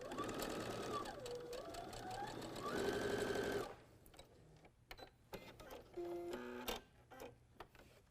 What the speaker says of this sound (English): take this to the machine, and stitch it with a 1/4 inch seam allowance